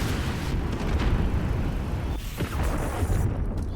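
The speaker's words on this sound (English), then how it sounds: "Peel going to go ahead and use his own cruise missile." A cruise missile strike in a competitive multiplayer video game bursts into a loud, rumbling explosion that fills the mix and lingers for several seconds, with a second surge near the end.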